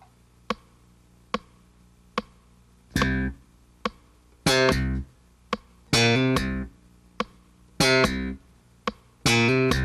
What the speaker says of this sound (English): we're going to play the first bar of a bass line, and we're going to use short tones and a hammer-on.